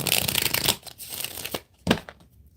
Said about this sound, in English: One more shuffle, y'all. One more shuffle